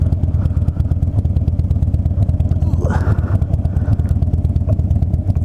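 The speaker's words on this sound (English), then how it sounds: "I do have a bad exhaust leak on this exhaust" Harley-Davidson Dyna motorcycle engine with a bad exhaust leak idling steadily and loud, with rapid ticking pulses throughout and a brief clatter near the middle.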